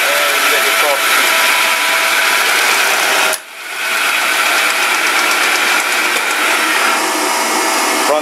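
A Delta Rockwell 11x26 variable speed metal lathe runs with a steady motor whine and mechanical hum, a brief dip near the middle before it settles back to an even, smooth drone.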